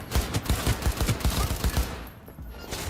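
Rapid bursts of gunfire from a weapon in the video game Cyberpunk 2077, a dense string of loud, punchy shots for about two seconds before the fire stops and a softer tail lingers.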